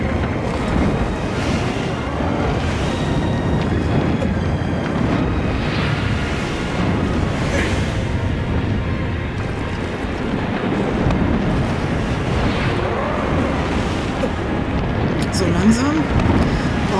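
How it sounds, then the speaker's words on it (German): A strong, steady wind roars high up in Shadow of the Colossus. The gusts are loud and continuous, with a low rumbling buffet that fills the whole stretch. "Ganz schön windig hier oben."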